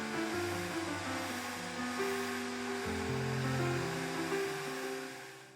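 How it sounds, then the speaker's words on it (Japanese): A steady rushing hair dryer blows throughout, drying watercolor pencil paper, partly masked by background music playing over it. "ドライヤーで完全に乾かして"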